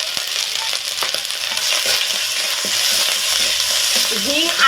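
Ginger paste and a pinch of asafoetida fry in a hot pan for a vegetarian cauliflower curry, giving a steady close sizzle with occasional stirring scrapes and a few light clinks, and no talk.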